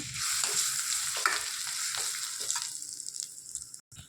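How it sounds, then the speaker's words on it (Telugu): Bottle gourd chutney being stirred into a pan with a pinch of turmeric: a soft, continuous frying sizzle with repeated scraping strokes of a spoon, fairly quiet and without speech. "ఇప్పుడు చిటికెడు పసుపు అండి ఇప్పుడు చట్నీని వేసుకొని కలుపుకుందామండి"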